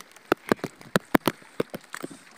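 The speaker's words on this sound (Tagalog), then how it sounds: "kasi malakas yung ulan" Heavy rain falling, heard as irregular loud drops and splats striking a nearby surface in quick uneven succession, with no talk.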